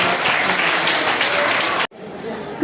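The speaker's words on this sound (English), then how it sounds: "Let's all clap for both the houses." Audience applause at a school debate competition comes as a steady wash of clapping from a large group that cuts off abruptly near the end, leaving quiet room noise.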